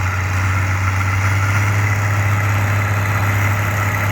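A 1940s-era farm tractor engine idling nearby, a loud, steady low rumble with a strong constant hum and no break across the whole stretch.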